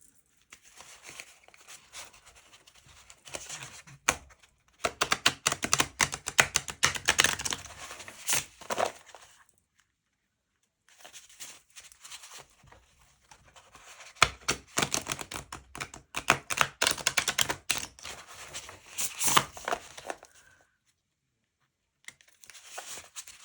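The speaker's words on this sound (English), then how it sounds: "Right, nicely shuffled." Crisp riffling bursts of cards being shuffled, coming in two long flurries separated by pauses, close and fairly loud.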